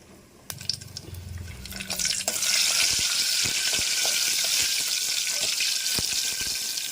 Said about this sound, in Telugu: మనకి ఆయిల్ వేడెక్కిందండి. ఇందులో మనము వెల్లుల్లిపాయలు వేద్దాం. అలాగే 2 ఎండుమిర్చి కూడా మనం వేసేద్దాము.